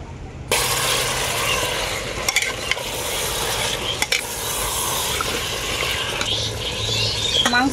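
Marinated mutton with black pepper and sour yogurt drops into hot spice masala in a pan, setting off a sudden loud sizzle that continues as frying with occasional stirring clatter, close by.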